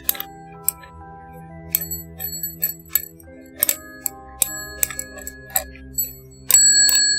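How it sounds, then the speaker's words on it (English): Small bell rung several times in quick, bright dings spread through the stretch, clear and close over a quiet musical background from the escape-room game. "Ring that bell. Get it? Cause I made a little ringy sound."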